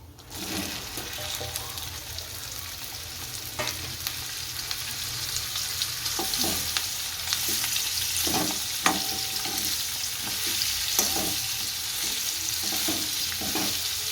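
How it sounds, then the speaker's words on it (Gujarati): Okra tossed into hot oil seasoned with asafoetida for Gujarati stuffed okra curry: a continuous close sizzle and crackle, with scattered clicks of stirring as the frying carries on. "હવે આ હિંગ છે એ આપણે તેલમાં નાખી દઈશું। તેલમાં નાખી દઈએ। હવે તેલ આવી ગયું છે આપણું। આ બધી હિંગ નાખી દીધી। હવે ભીંડો નાખશું।"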